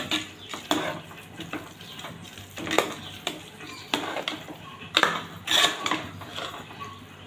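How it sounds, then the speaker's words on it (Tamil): Cooked rice for ven pongal, with fried pepper and cumin seasoning poured in, is stirred in a pot with a spoon, producing repeated scraping strokes and metallic clanks against the pot at an irregular, steady pace. "இதை நல்லா கிளறி விட்டுருவோம்"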